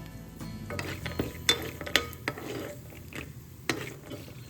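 Dry fruits, including almonds, being sautéed in ghee, with a spoon scraping and clinking in a pan through a light sizzle, irregular close strokes with a few sharper knocks, and no talk.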